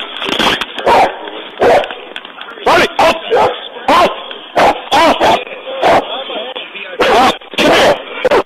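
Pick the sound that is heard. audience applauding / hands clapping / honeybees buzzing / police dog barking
police dog barking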